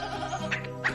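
A goat bleats in a short, wavering cry for a Hindi children's folk tale about three thieves, heard close and alone.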